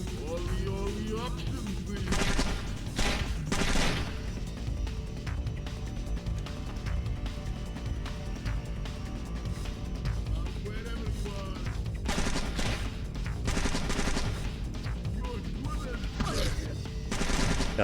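Enemies fire guns in Splinter Cell, with loud bursts of rapid automatic fire and clustered shots in several volleys separated by quieter stretches, with someone talking over parts.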